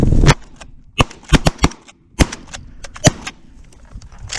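Shotgun blasts fired at Canada geese during a late-season goose hunt, a loud volley of about eight sharp shots in irregular quick bursts, close and echoing outdoors.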